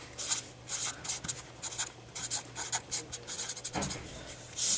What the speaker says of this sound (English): let's write this on the next page